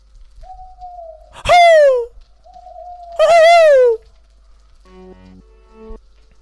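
Two loud hooting calls, each a rising tone swelling into a wavering hoot, with a short pause between and a faint background hum.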